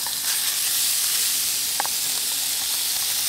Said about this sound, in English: Now we're gonna add our bacon.